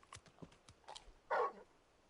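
Torgal, the large dog companion in the video game Final Fantasy XVI, gives one short, fairly loud bark or huff, preceded by faint footsteps-like taps.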